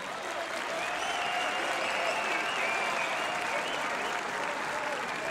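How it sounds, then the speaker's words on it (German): Sustained audience applause for two MMA fighters after a big fight at a GMC 26 event, a dense, steady wash of clapping with faint crowd noise and a voice over it. "Besonderer Applaus an beide Kämpfer."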